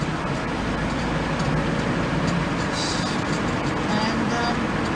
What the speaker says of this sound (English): This has got a 1509 engine,